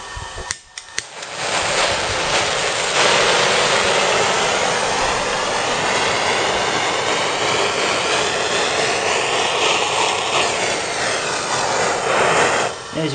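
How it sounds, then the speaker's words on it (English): A 3-inch bilge blower pushing air through a charcoal gasifier roars as a loud, steady broadband whoosh that holds for about eleven seconds after a few sharp clicks at the start, then cuts off near the end. "That's a 3-inch bilge blower there, probably underpowered for this."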